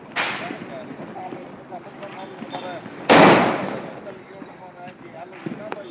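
Firecrackers are lit and burst outdoors, sharp loud bangs near the start and a heavy blast midway, with scattered distant pops and a faint voice in the background.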